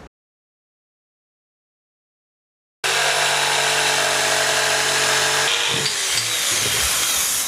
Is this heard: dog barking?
no